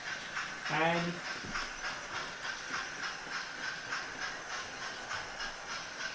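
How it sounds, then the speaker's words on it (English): A Fowler model locomotive pulling West Coast carriages runs on a model railway, giving a continuous soft hiss with faint rhythmic clicking throughout, while someone briefly speaks near the start. "when you see the Fowler, it's now pulling some West Coast carriages"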